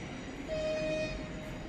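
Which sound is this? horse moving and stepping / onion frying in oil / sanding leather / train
train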